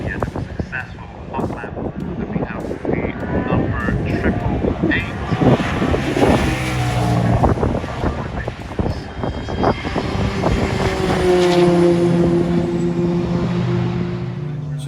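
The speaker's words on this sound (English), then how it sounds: "this Audi RS6 Avant decided to pull up next to the VX220" An Audi RS6 Avant pulls up at the Oulton Park circuit during Tunerfest, engine rumbling and revving nearby, blipping through several bursts before settling into a steady idle with wind buffeting the microphone.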